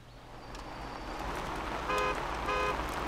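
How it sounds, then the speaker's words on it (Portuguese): A synthetic vehicle horn in LEGO Jurassic World toots twice in short bursts over a constant engine-like drone, clear and close. "O negócio tem uma buzina."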